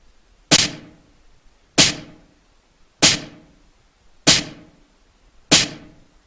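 Synthesized drum hit processed with heavy reverb in Sound Forge, struck five times at an even pace of about one per 1.2 seconds, each sharp attack followed by a long, bright, decaying reverb tail.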